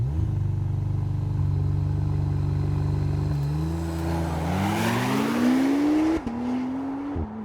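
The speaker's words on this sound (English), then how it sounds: "Very quick launch control, wow." A McLaren Artura makes a launch-control start and hard acceleration, its engine note climbing steadily through the revs with a shift partway, loud and continuous from inside the car.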